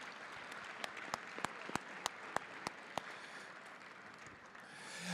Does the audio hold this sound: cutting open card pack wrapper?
no